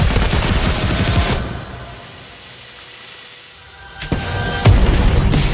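Rapid bursts of automatic gunfire in Call of Duty: Black Ops 4 on the Nuketown map, loud and dense, drop away to a quieter lull before another heavy burst of firing returns.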